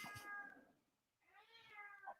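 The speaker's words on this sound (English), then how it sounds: "Hey, kitty." A cat meows twice, each a clear, drawn-out nearby call with a short pause between, the second slightly longer and rising before trailing off.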